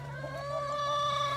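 Chickens and a rooster cluck steadily inside a chicken coop, a continuous low chorus of fowl at moderate distance with no one talking.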